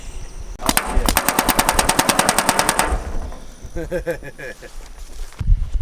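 A homemade mini tank's paintball gun, fed by an automatic hopper, rips off a long, rapid fully automatic burst, loud and close, followed by a shorter rattling volley and voices.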